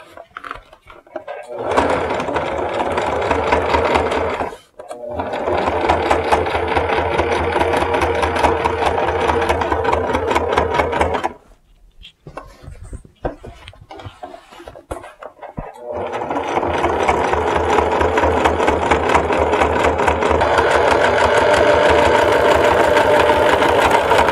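Sewing machine stitching the front panel of a denim skirt, its rapid needle rattle running in long continuous bursts with two short pauses between runs.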